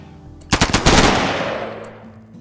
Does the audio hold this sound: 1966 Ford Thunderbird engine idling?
no